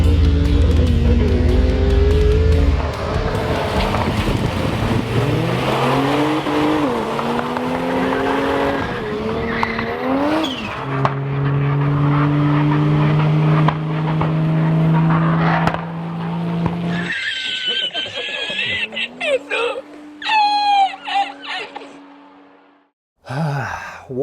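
Turbocharged Ford Falcon race car on a drag strip, its engine loud and close as it revs and pulls hard through rising gears, ending in a fading roar and a brief burst after a quiet gap.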